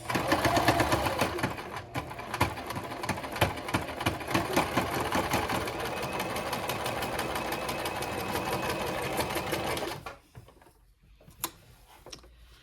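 Sewing machine stitching a scrunchie: a close, rhythmic mechanical chatter of rapid needle strokes running continuously for about ten seconds, then falling away to quiet with a few small handling clicks.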